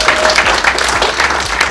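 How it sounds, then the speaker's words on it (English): Dense, steady applause from a sizeable crowd at a launch event, loud and continuous throughout the short stretch. "Round of applause."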